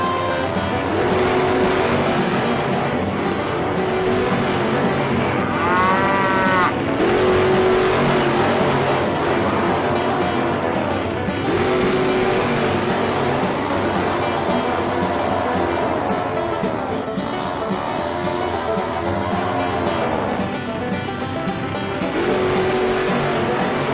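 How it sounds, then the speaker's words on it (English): Cartoon farm tractors race, their engines revving loudly and continuously, with repeated rising whines as they speed along the course. "Tractors, start your engines."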